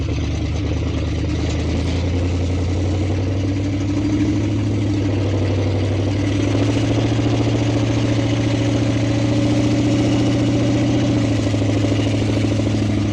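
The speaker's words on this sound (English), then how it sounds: "We're just cruising in this loud truck" A 1969 Ford F100 pickup truck drives along with a loud, steady low engine drone that swells slightly as it rolls on, heard up close from inside the cab with no talking.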